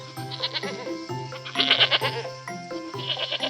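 A cartoon goat bleats repeatedly in a bedtime fairy-tale setting, loud, wavering cries that follow one another closely, set over a soft musical background.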